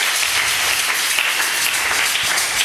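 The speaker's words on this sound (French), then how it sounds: "Acclamons pour le roi des rois." A church congregation applauds the King of Kings with dense, steady clapping that fills the whole stretch evenly, with no talk over it.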